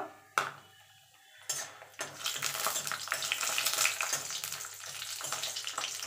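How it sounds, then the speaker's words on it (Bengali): Dried lentil dumplings dropped into hot oil in a wok: a couple of sharp clinks from a utensil, then a steady bubbling sizzle that builds and carries on, close and with no talking. "এবার আগে আমি বড়িগুলো একটু ভেজে নেব।"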